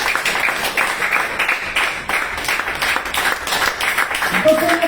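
Congregation clapping during a Spanish-language church sermon, sustained rhythmic applause across the whole stretch, loud and close, with voices mixed in.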